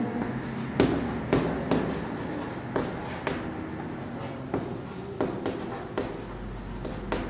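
Pen or pencil scratches continuously across paper while math answers are worked out by hand, with rhythmic strokes and small taps, close and fairly quiet, without speech.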